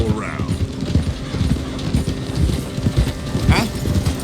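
Horse hooves clip-clop in Red Dead Redemption 2, a steady loud rhythmic trotting beat that continues throughout, with a brief whinny or vocal sound near the start and just past the middle.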